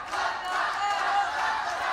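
A wrestling show crowd at a live event roaring and yelling in a dense, continuous wash of voices that stays loud and steady throughout.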